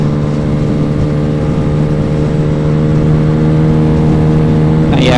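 A Yamaha Zuma 125 (RC158) scooter cruising at speed on a freeway gives a steady, loud mid-pitched engine drone with harmonic whine and continuous wind rush, unbroken from start to finish.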